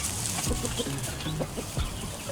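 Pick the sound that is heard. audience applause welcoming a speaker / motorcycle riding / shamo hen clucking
shamo hen clucking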